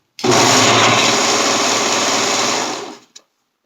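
A sewing machine runs continuously as it stitches fabric along a curve for a romper, a loud, steady, close whirring that holds for nearly three seconds before winding down and stopping.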